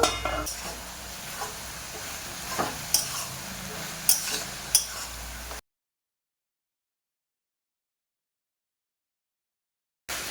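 Mixed vegetables, spinach, yardlong beans and potatoes with a hilsa fish head, stir-fry in a pan with a soft, close sizzle and a few sharp utensil clinks for about five seconds, then silence.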